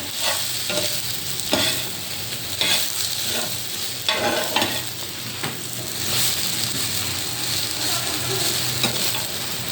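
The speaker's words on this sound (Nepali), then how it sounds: "मजाले भुट्नुपर्छ तेलमा" Steady sizzling of soybeans frying in hot oil, with repeated scraping and stirring strokes of a spoon against the pan.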